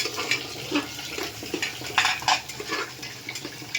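A spoon stirs a dal khichdi mixture seasoned with Maggi masala in a cooking pot, giving soft, irregular scrapes and light metallic clinks close by, with no talking over it.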